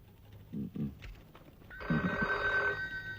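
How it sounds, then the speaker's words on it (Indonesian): A telephone rings in an indoor room, a bright electronic trill starting about two-thirds of the way in and continuing loud and near after a few brief knocks and movements. "Ada telepon, Pak."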